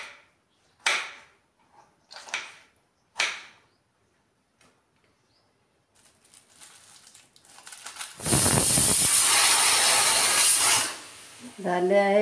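A pressure cooker cooking potatoes gives a loud, close hissing whistle of escaping steam that lasts a few seconds, preceded by several short sharp knocks and faint scattered noises.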